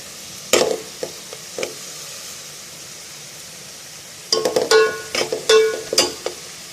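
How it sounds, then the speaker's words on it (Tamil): Ingredients for a radish sambar being sautéed in a pan until browned, with a low sizzle beneath a few isolated spatula scrapes, then a busier run of sharp clinking stirs toward the end, no voices. "இந்த அளவுக்கு ப்ரௌன் ஆகிற வரைக்கும் நல்லா வதக்கிக்கணும்."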